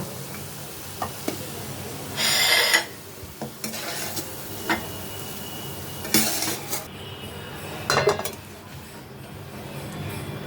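A pan of fried loitta fish fritters lifted off a gas stove, with a few scattered clinks and scrapes of metal cookware and a couple of short louder clatters over a quiet kitchen background.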